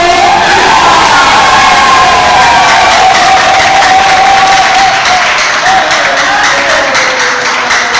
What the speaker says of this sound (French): Nous allons applaudir avec le vrai capitaine Ebenezer Stevenson Rosefa.